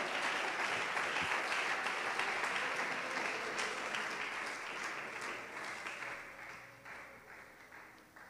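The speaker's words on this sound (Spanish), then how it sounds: "Oh, usted tiene que aplaudir al Señor esta mañana." Congregation applause fills a Pentecostal church service, a steady wash of many hands clapping at once that gradually eases off toward the end, with no talking over it.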